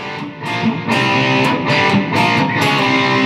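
Heavily distorted electric guitar strums a sustained IV chord, struck again several times in a loose rhythm, loud and saturated, with no voices.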